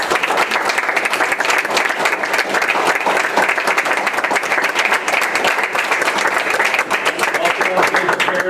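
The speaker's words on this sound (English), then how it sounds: "Let's give you a big round of applause." At a school board meeting, the audience gives loud, sustained applause for students being recognized, a thick and even burst of clapping that lasts throughout.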